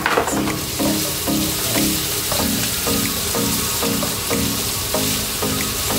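Marinated French beans stir-fried with garlic and onion sizzle loudly and steadily, with a regular rhythm of tossing and scraping strokes about twice a second, close and without voices.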